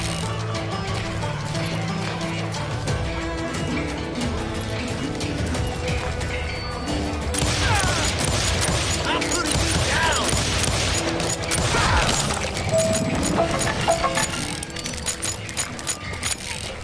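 Enemy gunfire in the Western shooter Call of Juarez: Gunslinger, with dense, continuous volleys of shots and clattering mechanical sounds that grow heavier and louder in the second half.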